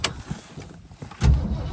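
A 1965 Mercury Comet Caliente convertible starting up for a test drive: a few soft clicks and shuffles, then the engine catches with a low, close rumble that holds to the end.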